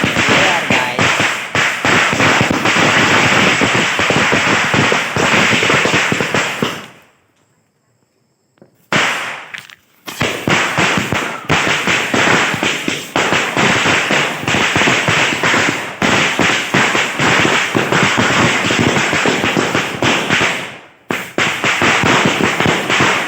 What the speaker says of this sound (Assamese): কিছুমান বোমা লৈ আহিছে তো ভাইটি ক'লে তই ফুটা